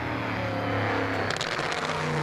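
Drag racing car at Famoso Raceway coasting through the top end, a loud sustained engine roar with a steady low drone, rising whoosh as it passes near.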